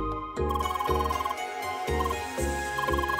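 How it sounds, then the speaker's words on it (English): An incoming phone call rings in the video game CrossCode, a repeating electronic ringtone in regular bursts, loud and alone with a steady musical backdrop. "call them on the phone"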